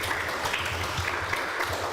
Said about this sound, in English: Can we give him a better round of applause?